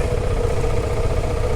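Honda CRF300 and Husqvarna dirt bikes ridden along a rough off-road track in the Australian bush, a steady loud engine drone with rumbling low clatter filling the whole stretch, no talk.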